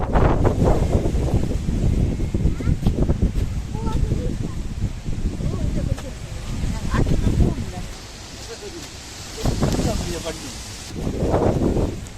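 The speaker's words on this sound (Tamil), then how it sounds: "சரியான காத்து." Strong wind on a UK farm buffets the microphone with steady, loud rumbling gusts that swell and ease throughout, with voices faintly audible at times.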